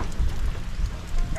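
Heavy rain falling outdoors, a close, rumbling patter with low thumps of drops hitting surfaces, steady and loud over a short stretch.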